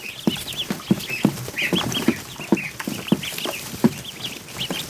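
Young ducklings cheep in a high, busy chorus of repeated peeps close by, with soft scuffling and bumps underneath in a poultry hatching pen.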